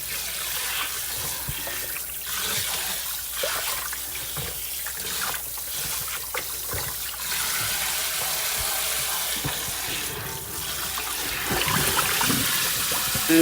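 Tap water runs and splashes continuously while a pork butt is washed in a sink, a steady close trickling rush with uneven spatters and no talking.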